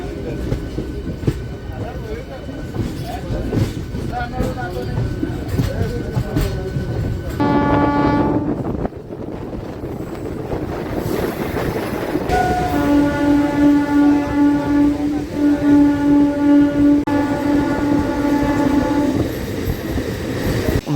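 A MEMU local train runs from Ghatkesar toward Cherlapally, its steady rolling rumble and wheel clatter close and continuous, with a long sustained horn blast sounding twice in the second half and a brief tonal burst near the middle.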